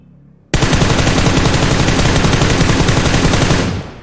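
Sustained rapid automatic gunfire from a video game shooting test, about three seconds of continuous loud burst fire that starts abruptly and cuts off, with no talk over it.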